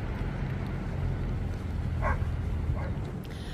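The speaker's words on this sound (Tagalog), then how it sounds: "Mga nag-exercise na aso." Dogs out for exercise at a seaside park, a couple of short barks or yips in the distance over steady outdoor wind and ambient rumble.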